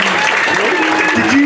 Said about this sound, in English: let's give a big round of applause to the people who we've come to see